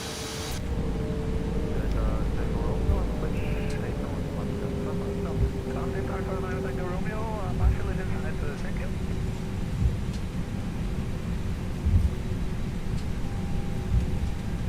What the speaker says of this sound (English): Let's give it some power and check the engine sounds as we apply power.